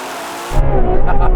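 A Ferrari launching hard off the line in a drag race, with a sudden loud engine roar cutting in after a moment of broad noise and holding strong and close.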